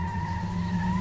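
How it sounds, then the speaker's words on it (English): Racing car engines in the video game Metropolis Street Racer, a steady loud whining drone with a sustained tire-squeal tone over a low rumble, brief and continuous. "It's just a cacophony of engine sounds behind me."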